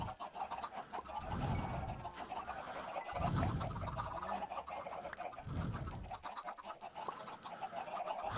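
Chickens clucking in Minecraft, a game with synthetic animal sounds: three short bursts of low clucks spaced a few seconds apart over a faint steady background.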